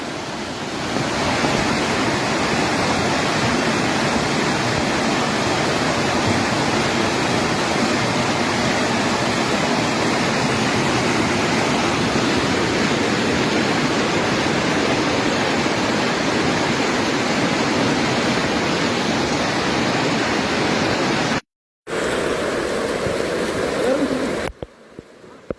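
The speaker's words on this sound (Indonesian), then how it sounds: "Hati-hati ini dah, hati-hati deras sekali arusnya." Fast, powerful flash-flood water rushes in a continuous loud roar, with a brief dropout near the end, in Indonesia.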